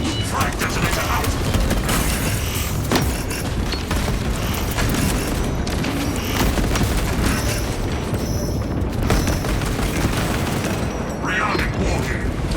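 A frag grenade detonates in Warhammer 40k Space Marine 2, amid a dense, continuous battle din of booms, gunfire and clattering mechanisms, with game voices speaking over the chaos.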